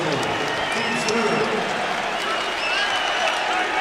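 Basketball crowd at a college game applauds, a dense steady wash of clapping and crowd noise in a large arena, with a commentator talking over it.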